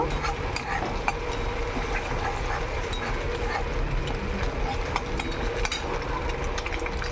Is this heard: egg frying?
yes